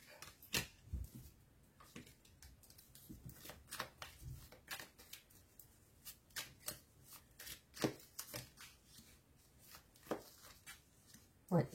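Tarot cards shuffled by hand for a reading, a run of crisp riffling and slapping bursts in an irregular rhythm, close and clear, with a quiet voice speaking in between.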